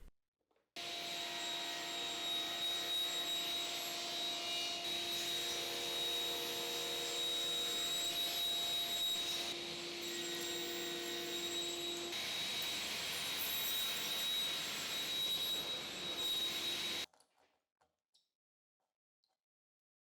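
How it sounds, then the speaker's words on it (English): A table saw cuts dovetails in a solid wood board with a shop-made jig, making a loud steady whine that runs continuously for about sixteen seconds and then stops abruptly, followed by a few faint ticks. "I used the jig I made to cut dovetails at the table saw"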